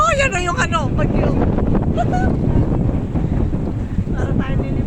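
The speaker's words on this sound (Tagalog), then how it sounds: "Yes, mahangin na. May bagyo." Strong typhoon wind gusts buffeting the microphone in Hong Kong, a loud continuous roar throughout, with people talking over it early on.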